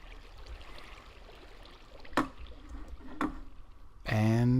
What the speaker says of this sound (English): I just want the water flowing.